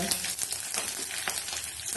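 Chopped onion and green chillies fry in hot oil over a tempering of peanuts, mustard seeds and chana dal, giving a close, steady crackling sizzle with frequent small pops.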